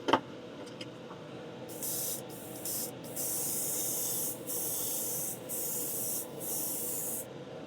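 Light coats of spray paint go onto a printed circuit board in several short, close hissing bursts with brief pauses between them, over a faint steady background hiss.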